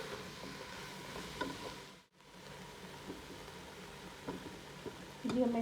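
Noodles stirred into sautéed vegetables in a pan give a quiet, steady sizzle with soft scraping and stirring, and a brief pause partway through.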